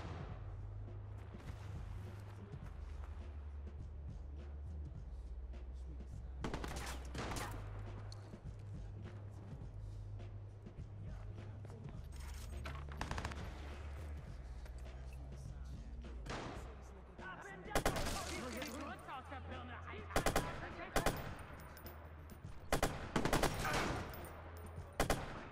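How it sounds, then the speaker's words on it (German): Machine gun fire in the video game Watch Dogs, rattling in dense bursts that grow louder and harsher toward the end over a low droning game soundtrack, with someone talking in between. "Alter, ich baller gerade meine ganze Muni."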